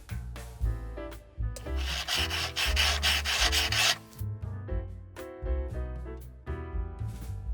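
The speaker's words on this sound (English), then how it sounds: "Now I need to grind down the back of heel to the paper tape." A knife heel scraping back and forth on a sharpening block, a steady gritty rasping rub in close, continuous strokes with a denser, louder stretch in the middle; no talking.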